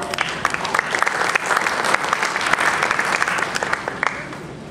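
An audience at an evening architecture lecture gives a brief round of applause, a moderate, close burst of many hands clapping that thins out over a few seconds.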